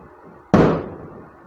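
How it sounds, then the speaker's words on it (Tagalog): A single sharp firecracker bang goes off outdoors, loud and sudden, with a short fading tail; nothing else stands out around it. "May paputok sa labas."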